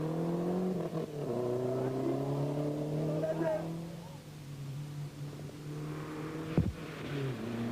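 A Lancia rally car's engine drones at a distance on rough, rutted Ivory Coast rally roads, holding a steady pitch with a brief sharp burst near the end, under a commentator's voice.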